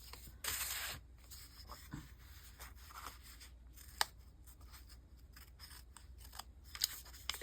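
Scissors cut out paper shapes for a collage, with soft snips and paper rustling close by and low in level, in short irregular bursts over quiet room hiss.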